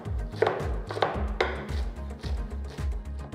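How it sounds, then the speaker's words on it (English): A knife chops fresh methi (fenugreek) leaves on a board with quick, regular strokes, about four per second, close and crisp, with a few sharper, louder cuts in among the steady rhythm. "So now I'm going to add the methi leaves. I'm just going to chop it nicely and add the whole bunch."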